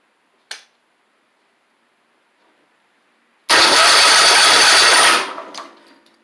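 A Troy-Bilt zero turn mower with crossed wiring cranks over in one loud, close burst of about a second and a half after a click and a pause, then fades out without starting.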